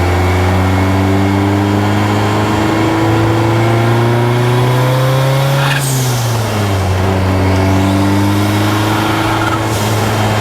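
An Ecoboost-powered DeLorean accelerates from inside the cabin, its engine note climbing loudly and steadily, briefly dropping at a gear shift around the midpoint, then rising again.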